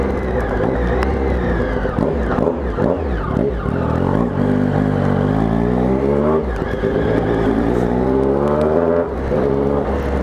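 Loud, continuous engine roar of a Triumph Speed Triple 1050 motorcycle with a full Hornet exhaust, repeated revving that rises and falls in pitch, close by and filling the whole stretch with no talking.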